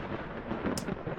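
A deep, rolling thunder rumble from a lightning strike in the video game Vintage Story, fairly loud and continuous over its brief length, with a faint high crackle near the middle.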